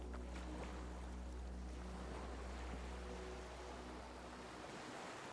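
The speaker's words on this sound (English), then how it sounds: "The skiff rocks, but for the sound of conversation on the water." A small skiff rocks on open water in the video game Disco Elysium. The sound is a steady, full wash of waves and wind with a low hum underneath, continuous and unbroken, with no voices.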